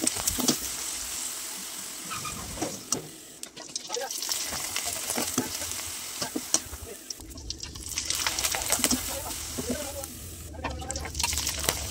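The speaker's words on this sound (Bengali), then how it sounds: "আর একে একে এভাবেই আমি পিঠাগুলো ভেজে নিচ্ছি।" Rice flour pitha sizzle in soybean oil in a wok, a soft frying crackle with occasional clinks and stirring, while someone talks over it for most of the clip.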